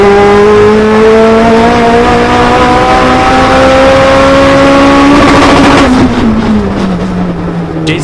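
A turbocharged K24Z engine in a rear-wheel-drive car accelerates hard, a loud, close rising engine note climbing steadily through the revs before a shift breaks it and the pitch drops, no voices.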